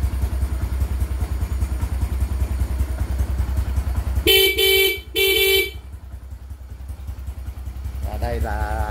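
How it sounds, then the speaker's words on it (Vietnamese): Dual horn on a motorcycle fitted with a supercapacitor starting pack, giving two close, loud, sharp honks about a second apart over a steady idling engine rumble, then fading to quieter engine noise. "Tiếng kèn xe nghe đanh hơn xưa rất nhiều"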